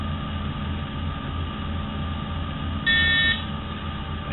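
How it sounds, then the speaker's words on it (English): A short electronic beep from a boat's throttle stop sounds once near the end as the throttles come out of gear, over a steady low engine drone, with a dense stack of tones lasting about half a second. "That's the stop on my throttles. When I bring them out of gear, it goes beep."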